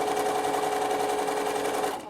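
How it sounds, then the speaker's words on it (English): A Bernina sewing machine stitches a stipple pattern across a quilt, its motor whirring in a steady, close, continuous drone before slowing and stopping at the very end. "So I'm just stippling it"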